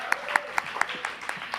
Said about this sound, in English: another round of applause for our music entrepreneurship students.